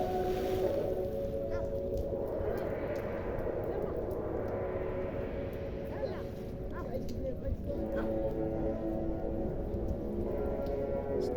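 A trawler moves across deep floodwater covering a road in a haor, its engine a steady droning hum mixed with water wash, continuous and fairly close, with voices talking faintly over it.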